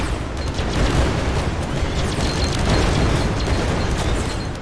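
Self-destructing enemies in the video game Greedland blow up in a dense, continuous barrage of overlapping booms and bursts, loud and close, with no break across the stretch.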